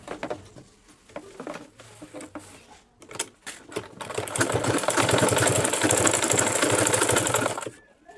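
A sewing machine stitches a fish mouth turban cap in short stop-start bursts, then runs in a longer fast rattling stretch of rapid needle clatter, close and loud.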